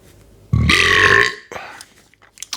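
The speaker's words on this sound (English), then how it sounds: "Good burp for a good IPA." One long, loud, close burp rumbles for close to a second after drinking a New England IPA, followed by quieter mouth sounds and small background noises.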